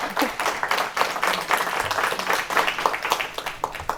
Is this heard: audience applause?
yes